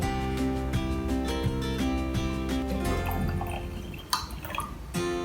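Water trickles and splashes into a container near the end, faint under steady background music.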